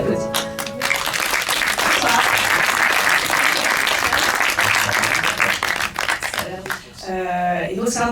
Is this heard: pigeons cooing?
no